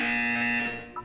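A synthetic buzzer tone from the video game Portal 2 sounds steadily, bright and loud, then fades before two short blips close it out; no one talks.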